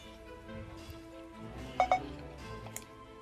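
A phone chimes with an SMS notification, two short bright electronic tones close together, faint under quiet game sounds and soft background noise.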